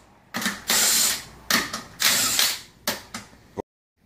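Lug nuts coming off a 2009 Chevrolet Tahoe wheel during rear brake work, heard as several loud mechanical bursts of a power tool or ratchet in quick succession, then silence.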